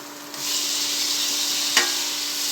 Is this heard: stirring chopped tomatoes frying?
yes